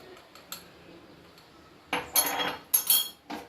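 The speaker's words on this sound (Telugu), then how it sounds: "యాడ్ చేశాక ఇలా కలుపుతూనే ఉండాలి, ఉండలు కట్టకుండా కలుపుతూ ఉండాలి." Custard powder being stirred into milk with a spoon in a pot, giving scattered light scraping and clinking bursts that grow more frequent toward the end, close and fairly quiet.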